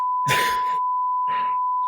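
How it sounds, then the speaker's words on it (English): A steady, piercing censor beep tone runs unbroken through a recorded phone call, with two short bursts of voicemail-style speech underneath it. "I'm going to have to bleep that too."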